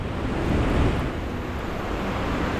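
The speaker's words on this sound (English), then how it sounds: "Sound of running water is powerful." Roar of running water at Vernal Fall, a 600-foot waterfall in Yosemite, heard as a steady, loud broadband rush with no break and no voices.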